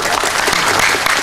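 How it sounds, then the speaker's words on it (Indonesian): An audience claps in a dense burst of applause at a Sinau Bareng gathering with Mbah Nun and Kiai Kanjeng in Banyumudal, Pemalang, loud and close throughout. "Tepuk tangan"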